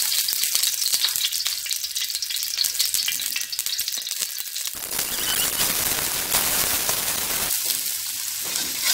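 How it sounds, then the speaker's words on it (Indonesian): Cassava leaves stir-fry in hot cooking oil in a pan, a loud, steady sizzle and crackle that surges midway as the leaves are stirred and tossed, with no talk. "Ini ditumis setengah matang dulu."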